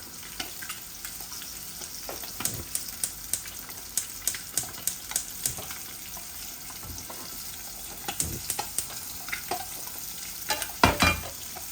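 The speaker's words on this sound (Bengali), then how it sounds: "অল্প তেলও বাজিমু, সেলো ফ্রাই।" Fritters shallow-fry in a little oil, a steady moderate sizzle dotted with many sharp spattering pops and crackles that come in irregular bursts.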